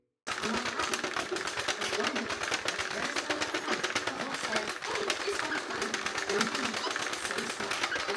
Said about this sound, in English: So come along with me while I Sentro knit these gifts.